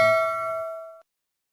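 One bright metallic bell ding strikes and rings out cleanly, its tone fading over about a second before stopping abruptly into silence.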